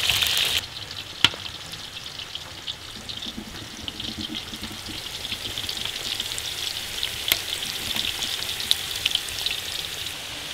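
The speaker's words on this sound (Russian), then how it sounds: "Жарим картофель до готовности." Potatoes frying in a pan over an open fire outdoors, a steady close crackling sizzle with a few sharper pops throughout.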